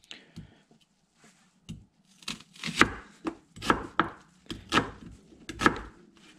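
Onion for vegetable soup is chopped with a knife on a board: a handful of close, crisp thuds in an uneven rhythm, separated by short quiet pauses, with no talking.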